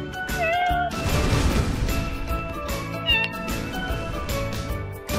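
A cat meows repeatedly up close, drawn-out loud cries with a rising and falling pitch that carry through most of the stretch alongside some background clatter.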